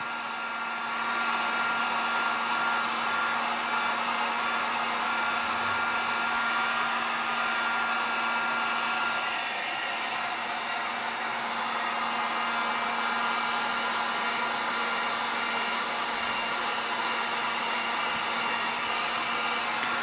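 A heat gun blows a steady hot-air roar onto plastic being repaired on a KV75 MT1. The whoosh is continuous, loud and close, with a constant hum under it and no talking.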